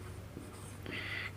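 Chalk writing a short definition on a classroom board, a couple of brief close scratchy strokes over a low steady hum.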